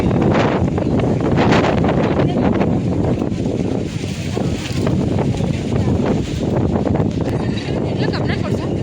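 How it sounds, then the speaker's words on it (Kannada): Strong wind at the Shivanasamudra waterfalls buffets the microphone with a continuous loud roar that surges and dips, with no clear voices cutting through. "ಯಪ್ಪ ಏನು ಗಾಳಿ"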